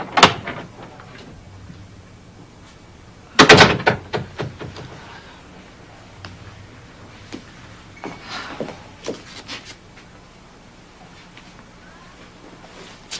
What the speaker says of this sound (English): Salvador, open the door